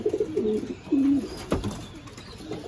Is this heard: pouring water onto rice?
no